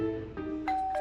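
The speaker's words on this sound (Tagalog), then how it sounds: "May nag-doorbell!" A Roblox doorbell chimes in-game with a few bright electronic ding-dong tones in quick succession, clear and close over a steady tonal game music bed.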